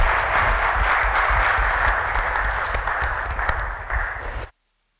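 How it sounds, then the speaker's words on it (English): Loud, dense applause from a large conference audience fills the air continuously, then cuts off abruptly. "give a round of applause to the two ministers and bid them success."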